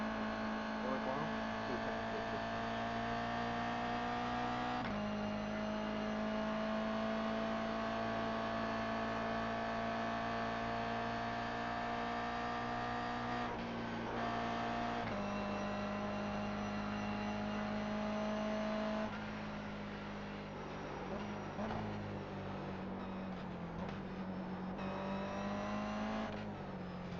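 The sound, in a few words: race car accelerating out of corner at Bathurst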